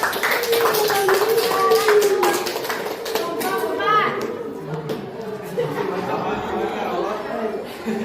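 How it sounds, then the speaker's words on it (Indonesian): A school class clapping hands in a classroom, a burst of scattered claps mixed with students' chatter and chuckles, the clapping thinning out as talk continues over it. "Oke, tepuk tangan."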